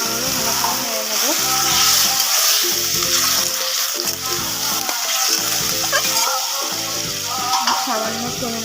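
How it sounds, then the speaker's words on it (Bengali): Fish with potatoes and eggplant frying in a pan while being stirred, a loud continuous sizzle with rhythmic scraping strokes of the spoon throughout, no voice. "আবারও ভালো করে নেড়ে নেবো।"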